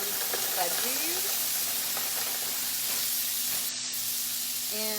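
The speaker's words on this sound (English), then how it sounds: "I'm gonna just throw in my onions there." Onions tossed into a hot pan for chicken fried rice crackle and sizzle in a loud, continuous hiss, with a few faint voice traces beneath the frying.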